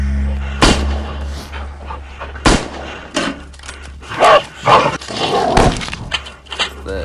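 Infantry rifle gunfire in the zombie video game Into the Dead: several loud, sharp shots spaced irregularly over game noise and a rumbling low background, with growling or dog-like sounds in between.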